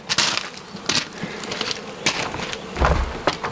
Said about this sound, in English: a little trick to keep your bees chilled out, kind of cool, kind of easy going